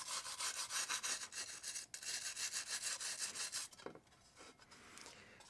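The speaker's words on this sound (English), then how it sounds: "Let's try a brass brush, maybe. A brass wire brush, perhaps." A brass wire brush scrubs an aluminum part from a Technics SL-BD22 turntable in quick, close back-and-forth strokes. The rasping runs steadily for under four seconds, then trails off into lighter, sparser scratches.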